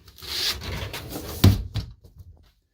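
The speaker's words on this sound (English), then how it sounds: "leave it open at night and close this door" A door swings shut inside a 1998 Newmar Mountain Aire motorhome, a fairly loud wooden thud and rub with a sharp knock midway, close by and with no voices over it.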